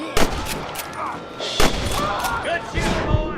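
Gunfire in a Red Dead Redemption shootout: several sharp, loud shots crack out irregularly over shouting voices and background game noise.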